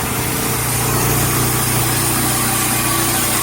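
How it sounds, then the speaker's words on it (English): A sawmill blade cuts through a hemlock beam with a loud, steady engine drone and dense grinding roar close by, unbroken throughout with no voices. "the blade is cutting awful nice"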